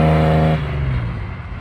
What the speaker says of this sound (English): the BMW there is giving it absolute hell